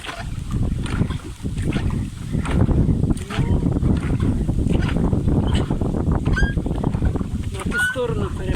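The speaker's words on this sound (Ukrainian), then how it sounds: "Крутить, вітер віє, страшне. Такий шторм якось." Gusty wind roars and rumbles against the microphone, with water sloshing and a few faint bird calls in the distance.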